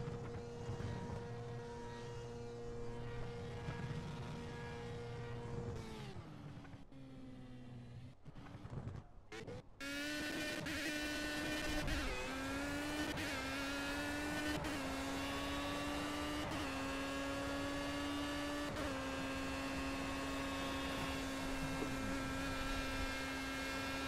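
A race car in the video game Project Cars laps the Spa circuit, its engine a sustained droning whine that climbs in pitch through gear changes, briefly dropping off and cutting out midway before revving back up.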